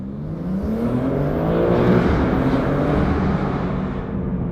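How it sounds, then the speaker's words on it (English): A BMW M4 G82 exhaust revs up with a deep, raspy roar from aftermarket downpipes, rising and holding steady for several seconds, loud and close. "we gotta show you what these downpipes sound like"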